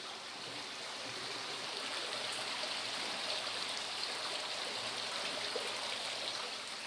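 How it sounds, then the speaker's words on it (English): Water flowing into an underground pond inside a cave in the Venezuelan Guiana Highlands, a continuous rushing, splashing stream with a steady even level throughout and no voices. "Water is flowing into a pond."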